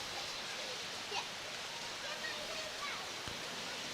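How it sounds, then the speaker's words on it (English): Heavy rain pouring down on a street outside a lawn bowls venue, a steady, soft hiss of falling water with faint scattered sounds over it. "See the rain pouring down."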